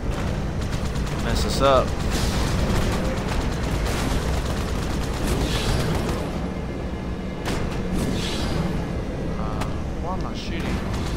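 Rapid gunfire and explosions from the Halo 2 video game, loud and continuous with bursts throughout, while players talk over the action.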